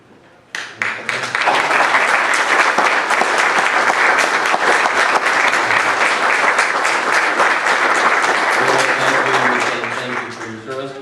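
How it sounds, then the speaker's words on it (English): Church congregation applauding veterans at a Sunday service, clapping starting abruptly and swelling into a full, steady round before tapering off near the end, with a voice speaking faintly beneath toward the close. "we'd like to honor you with a round of applause"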